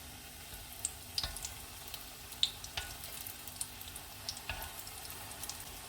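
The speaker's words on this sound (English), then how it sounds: "Drop a half a teaspoon of your batter at a time." Spoonfuls of mini donut batter fry in hot oil on medium-high heat, a quiet continuous sizzle broken by scattered small pops and crackles, close by with no talking.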